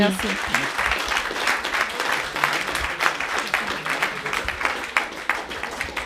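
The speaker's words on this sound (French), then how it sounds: "Merci, on peut encore l'applaudir." An indoor audience at a talk by a woman business leader breaks into sustained applause, dense clapping throughout with a voice speaking over it.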